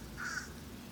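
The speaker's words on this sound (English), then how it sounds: "I have apparently offended some crow family" A crow caws once on a golf course. The call is brief and faint, heard against steady outdoor background noise.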